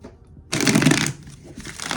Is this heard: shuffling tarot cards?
yes